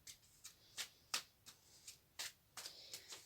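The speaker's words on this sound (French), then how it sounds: "Et là, je prends une carte. Et je mélange." Tarot cards being shuffled by hand, a series of soft, papery riffles and slaps in irregular bursts, close and quiet with no talking.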